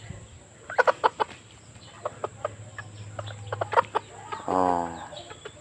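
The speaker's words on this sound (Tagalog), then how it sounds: "Manok sa sagingan oh." Chickens clucking in a banana grove, a series of sharp, close clucks in irregular clusters, ending with a longer drawn-out call.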